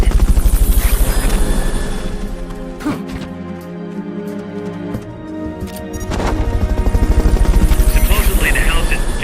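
Loud, close rotor chopping from a Fulton recovery helicopter in the video game Metal Gear Solid: Peace Walker, thumping steadily, easing into a quieter lull midway before surging back to full strength.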